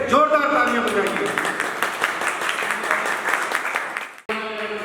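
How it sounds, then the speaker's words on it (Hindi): An audience at a Louis Braille Jayanti program breaks into loud applause, dense clapping from many hands that gradually fades. A voice trails off at the start, and after an abrupt cut someone else begins speaking. "एक बार फिर से जोरदार तालियां बजाइए।"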